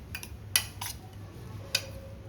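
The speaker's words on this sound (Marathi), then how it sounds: "मिक्स करून घ्यायचं" A spoon clinks a few times against a bowl while mixing chopped raw mango and onion, producing light, sparse taps at close range in an otherwise quiet room.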